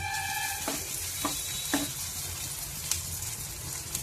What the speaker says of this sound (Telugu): వంకాయ ముక్కలు దుంప ముక్కలు వేసుకుందామండి. వేగుతున్నాయి ఇంకోండి.